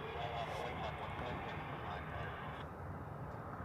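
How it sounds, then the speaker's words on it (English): A heavy C-5 military transport aircraft departs over Honolulu airport, its engines a broad, sustained roar heard at a distance, steady and fairly faint before easing slightly near the end. "heavy C5 departing over the HCC"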